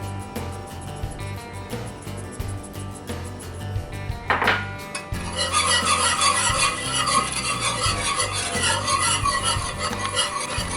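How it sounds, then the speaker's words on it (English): Bacon gravy being whisked in a cast iron pan, with a steady scraping, rasping stir that turns louder and denser halfway through, continuous and close. "Just keep whisking like this as it starts to thicken."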